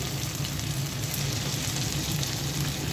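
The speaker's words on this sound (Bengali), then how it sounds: "পেঁয়াজটা ভেজে নিলাম এখন আদা রসুন দিয়ে দিচ্ছি পাবদা মাছ রান্নার জন্য" Onions with ginger and garlic frying in a pan for a Bengali pabda fish curry, giving a steady, close hiss of sizzling oil with a low crackling bed throughout and no talking.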